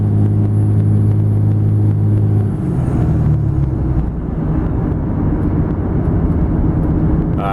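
Cummins diesel fitted with an AFE stage 2 cold air intake, a steady engine roar with a high whistling turbo whine that fades as the revs drop, leaving a rough rumbling idle, loud and close.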